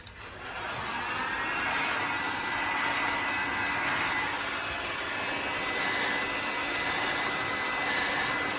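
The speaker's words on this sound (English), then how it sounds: "we just use it as a heat gun to heat the soles up" A heat gun blasts steadily while warming shoe soles for a Dainite resole, a loud, even whooshing hiss that starts abruptly and holds without pause.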